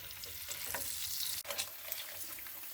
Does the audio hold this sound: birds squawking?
no